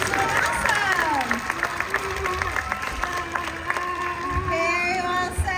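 An audience claps at a seal and sea lion show for the sea lion Reese, a busy spread of hand claps and crowd noise, with a voice and other tonal calls sounding over it.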